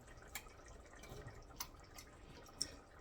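Sparse, faint water drips fall from potato cubes lifted out of water, a few times at irregular intervals over a low background hiss, with one sharper drop near the end.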